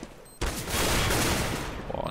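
Rapid gunfire bursts in the video game Counter-Strike on the de_train map during a competitive esports match, a loud, dense volley of shots crackling for under two seconds with a caster's voice in the background.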